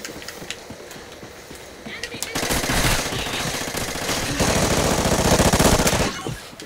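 Automatic gunfire in Call of Duty: Ghosts, rapid rhythmic shots that build into louder sustained bursts midway, with a person talking over the action.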